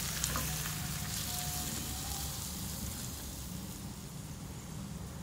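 A hot spiced tempering of oil sizzles steadily as it is poured over cooked urad dal, a continuous crackling hiss close by with no talking.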